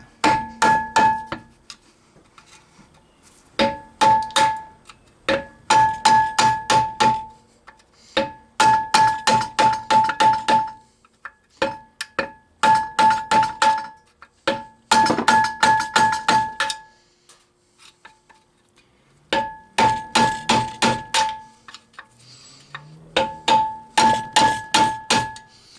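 A hammer repeatedly striking a suspension bush on a Rover P6 V8 during removal, with loud ringing metallic blows in quick bursts of several hits separated by short pauses.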